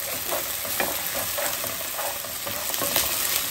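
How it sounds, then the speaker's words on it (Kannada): Chopped onions and chillies fry in a pan for a side dish, a dense close sizzle with rhythmic stirring scrapes and no voices. "ಚೆನ್ನಾಗಿ ಇದನ್ನು ಫ್ರೈ ಮಾಡಬೇಕು, ಸ್ವಲ್ಪ ಕೆಂಪಾಗುವವರೆಗೂ ಫ್ರೈ ಆಗಲಿ"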